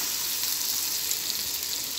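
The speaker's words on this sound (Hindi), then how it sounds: "अच्छे से फ्राई कर लेंगे।" Food fries in a pan with a continuous, even crackling sizzle, close and steady with no other sounds.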